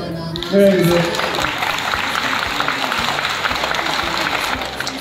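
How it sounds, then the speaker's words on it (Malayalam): Steady applause from a church gathering clapping for the singers fills the whole stretch, a dense even patter of hands with a brief spoken voice at the start. "പാട്ടുകാരൊക്കെ കൈയടിക്കണ്ടേ?"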